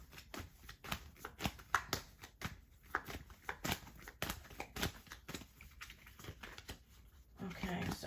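Tarot cards are shuffled by hand, giving rapid irregular riffles and soft slaps in quick bursts, close and fairly quiet, with a voice talking in places.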